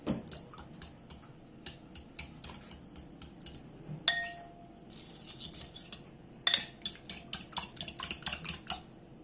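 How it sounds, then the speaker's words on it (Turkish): A metal fork whisks eggs and milk in a bowl for a water börek batter, giving rapid, irregular clinks and taps against the bowl at close range, with a couple of sharper knocks midway. "Şimdi bir çatal yardımıyla e, yumurtalarımı güzelce karıştırıyorum."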